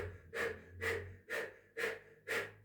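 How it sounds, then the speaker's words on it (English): Five slow, even breaths drawn in and pushed out through a rounded, O-shaped mouth during a Kundalini-inspired yoga practice, each a soft airy rush close to the ear with short pauses between, no talking. "you're going to breathe in and out through an O-shaped mouth like this"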